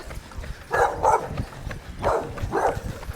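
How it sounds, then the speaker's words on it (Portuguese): A small dog barks four times close by, in two pairs of short yips, over faint outdoor background noise. "Viu? Cachorrinho."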